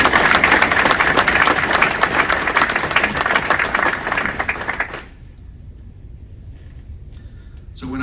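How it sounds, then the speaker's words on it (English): A crowd applauds canal workers at an outdoor ceremony opening the Welland Canal shipping season, steady dense clapping for about five seconds under light wind, then fading to quiet ambience with a brief bump at the end. "let's have a round of applause for the workers who did all the hard work to make it possible to start again"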